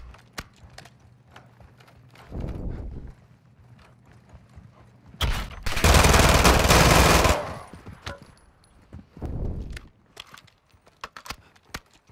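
Pistol gunfire in a military shooter video game, a few sharp shots scattered among bursts of loud broadband noise and other game effects.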